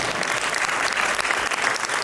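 Dense, steady applause from a mushaira poetry-gathering audience welcoming a guest poet to his seat, continuous clapping throughout.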